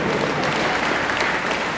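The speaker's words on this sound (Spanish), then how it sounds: "Fuertes los aplausos también para los señores del partido líder que" Audience at a sponsor presentation for a sports event gives a continuous round of applause, a thick, even wash of clapping with no pauses.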